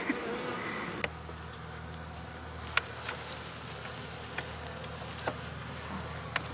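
Bees buzzing around a recovered beehive on a homestead, a faint continuous outdoor hum with a few soft clicks and taps, no voices.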